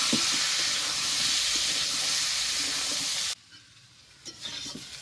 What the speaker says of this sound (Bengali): এবার নেড়ে ছেড়ে ওল আর আলুগুলোকে ভালো করে ভেজে নেব